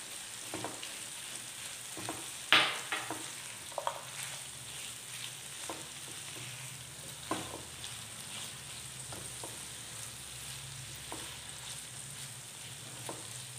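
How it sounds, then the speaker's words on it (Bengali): Chopped onion frying in a pan for paneer veg fingers, a soft continuous sizzle with faint stirring scrapes and a few light clicks of a utensil. "এবার এর মধ্যে আমি দিচ্ছি পেঁয়াজ কুচি।"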